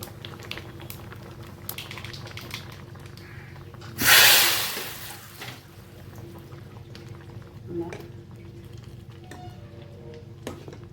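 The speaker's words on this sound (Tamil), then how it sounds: "நல்லா குழம்பு கொதிச்சிருச்சு." Keerai sambar, a spinach lentil stew, simmers in a pot with a soft, steady bubbling, broken by one brief loud sizzling splash and a few faint clinks.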